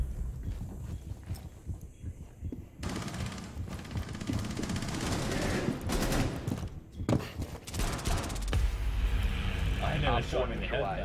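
Rainbow Six Siege gunfire crackles in bursts among loud game sound effects, with rapid shots clustering mid-clip and people talking over the action throughout.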